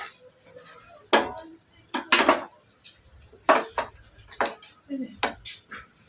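Kochu shak (taro leaves) with hilsa fish head is stirred in a pan, giving irregular scrapes and clanks of a utensil against metal at close range, in bursts with short pauses.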